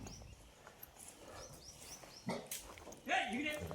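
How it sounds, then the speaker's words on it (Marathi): A dog at a village home in Haldule, Raigad, gives faint whines and yelps in the distance while people talk and call to it nearby. "बघा कुत्री कशी आहे"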